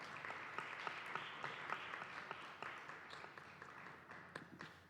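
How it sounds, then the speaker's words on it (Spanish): Audience applause welcoming an author onstage at a literary festival colloquium in Antequera, a steady wash of clapping hands from a moderately distant crowd lasting the full five seconds, individual claps popping out of the dense patter. "os pido un aplauso de bienvenida para Gervasio Posadas, por favor."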